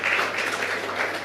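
Audience applause at a Jain religious gathering, a steady wash of many hands clapping at moderate volume that holds evenly for the whole short stretch with no voices over it.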